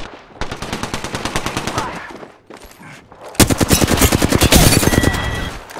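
Rapid automatic gunfire in Apex Legends, two loud sustained bursts of close machine-gun fire separated by a short pause, with the second burst denser and louder.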